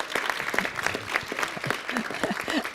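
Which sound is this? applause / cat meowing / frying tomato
applause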